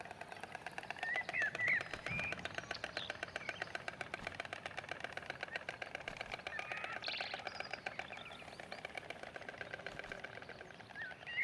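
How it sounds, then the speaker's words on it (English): A nesting bird pair clatters their bills in a rapid, steady rattle of dry clicks that continues for many seconds, with a few brief bird calls over it. "they're greeted by their partner with a vigorous round of bill clattering"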